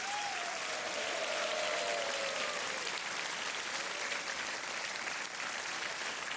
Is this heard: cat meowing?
no